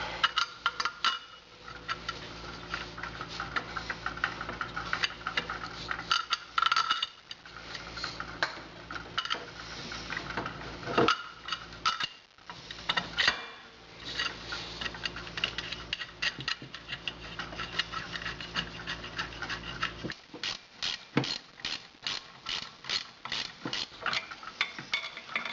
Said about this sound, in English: then we start running our little bolts in.